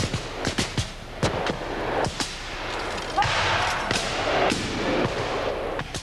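Civil War reenactment infantry fire a ragged volley, a string of sharp, loud musket cracks spread unevenly over several seconds, with a noisy rush of smoke and echo between the reports.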